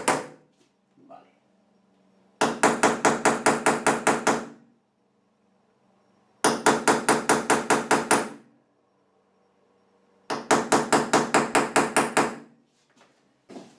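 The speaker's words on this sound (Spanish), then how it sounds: "Con saltar un poquito el esmalte es suficiente." Steel hammer tapping tile enamel in a bathroom before drilling for a grab bar: three separate bursts of rapid, evenly spaced knocks, each lasting about two seconds, loud and close, with quiet gaps between them.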